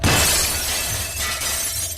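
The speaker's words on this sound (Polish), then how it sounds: "Szkło pękło z trzaskiem" A brick smashes through a glass window as a sound effect: a loud, close, bright shattering crash that spills straight into a sustained tinkle and rattle of falling shards, with nothing else heard.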